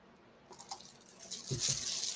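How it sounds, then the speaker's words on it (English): White liquid is poured from a container into another, a soft gurgling, trickling pour that builds over a couple of seconds, close and fairly quiet. "And then I'm going to pour a little more of this in here."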